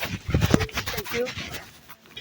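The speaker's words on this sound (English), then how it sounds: "Beautiful dog." A dog pants softly in short, quick breaths close by, partly under people talking nearby.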